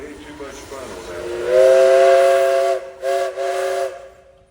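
A steam tractor whistle at a steam tractor parade blows a loud, steady chordal tone for about a second, then stops briefly and gives two more short blasts, with a faint hiss and crowd murmur beneath.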